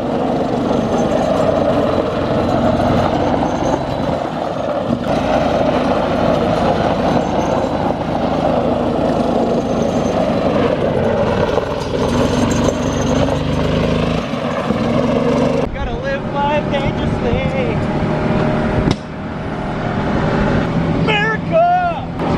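A golf cart driving on a road over a hilly route, with a steady motor and road rumble throughout, close and continuous, while people talk over it.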